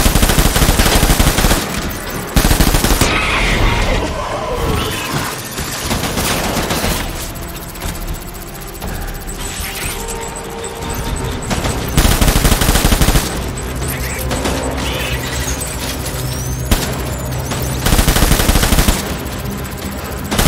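Dense bursts of machine-gun fire rattle loudly and almost continuously in the video game Death Stranding, with brief lulls between volleys.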